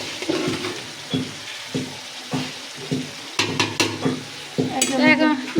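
Biryani is stirred in a cooking pot, giving repeated scraping strokes with a light sizzle underneath, the scrapes coming in uneven bursts that grow busier toward the end.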